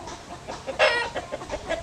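Chickens cluck nearby in short, soft bursts, with one louder squawk standing out amid the steady low murmur of the flock.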